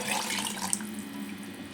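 Water pours steadily into a pot in a continuous splashing stream, close and fairly quiet, with no talking.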